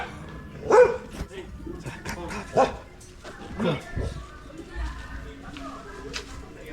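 Agitated dog barking in sharp, angry bursts near a rock-cut cave temple at Yanaimalai, a few loud barks spaced through the clip with people talking over them.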